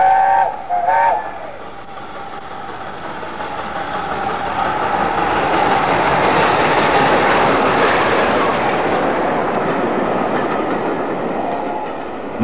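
LNER steam locomotive 4498, in post-war blue livery with maroon wheels, running on preserved main-line track; a loud, steady rumble of the train swells as it passes close by, with a short whistle-like tone near the start and no speech.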